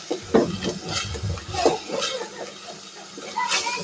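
Spice paste of turmeric, salt, ginger-garlic and green chili sautéing in a pan, with soft stirring scrapes and a low sizzle that rise and fall in uneven bursts, close and fairly quiet.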